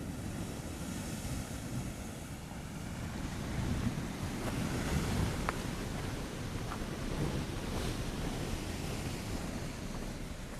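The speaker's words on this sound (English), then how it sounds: "Just have a look at some of these swells coming up in here though." Ocean swells roll in and surf breaks along a rocky ledge shore, a steady deep wash of water with wind buffeting the microphone, swelling slightly louder midway, with no voices.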